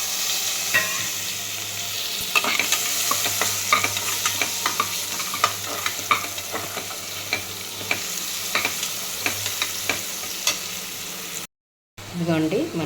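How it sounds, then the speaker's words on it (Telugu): Onions frying in a pan for restaurant-style totakura pappu, a continuous crackling sizzle with frequent stirring clicks and scrapes, close and steady, briefly dropping out near the end before resuming. "ఉల్లిపాయలు కూడా వేసేస్తున్నామండి."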